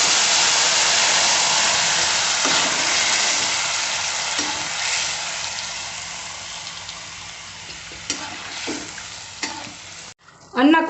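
Tamarind water for puliyogare bubbles and sizzles in a hot oil tempering with peanuts, a steady loud frying hiss with stirring scrapes, softening midway and ending in a few sharp clatters.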